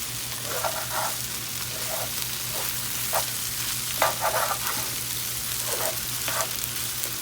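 Smoked sausage and potatoes sizzle uncovered in a skillet while browning, a steady frying hiss with intermittent stirring scrapes and pops throughout, no talking.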